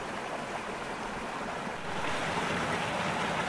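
Stream cascading down rocks, a steady, broad rushing wash of water that swells slightly louder partway through, with no talk.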